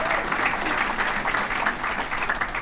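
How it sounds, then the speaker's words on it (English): An audience at a Torrance Area Chamber of Commerce State of the State event gives sustained, dense applause, loud and continuous from start to finish. "Let's give her another round of applause."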